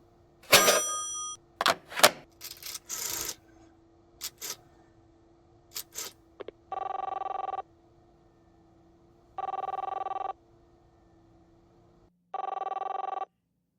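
Old rotary telephone being dialed, a series of clicking whirs from the dial, followed by three loud, evenly spaced electronic ring bursts from a line ringing in a quiet room.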